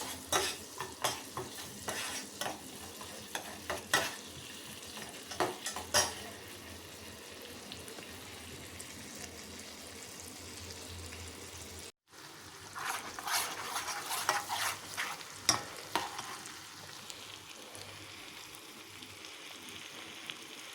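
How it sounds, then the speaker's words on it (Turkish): Garlic sautéing in vegetable oil and butter in a pan gives a steady, soft sizzle, with repeated scraping and stirring clicks, close and moderate in volume, with one brief cut partway through. "Şimdi sarımsağı da eritiyoruz su kadar. Sıvı yağ, tereyağı, sarımsak. Burada kavuracağız."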